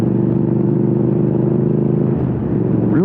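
A Triumph Speed Twin motorcycle holds a steady cruise near 60 mph, its engine droning loud and continuous from up close, with a slight shift in pitch near the end.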